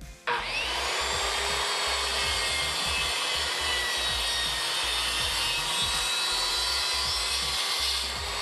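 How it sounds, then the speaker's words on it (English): A circular saw riding on a homemade DIY sled plunges down into a wooden workpiece, giving a loud, steady, high whining cut that starts abruptly and holds evenly for about eight seconds with no voices. "I'm going to very carefully turn the saw on, keeping the blade up off of the workpiece, and then just slowly drop it in"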